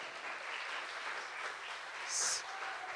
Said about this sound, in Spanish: Alguien aplauda de verdad al Señor esta mañana.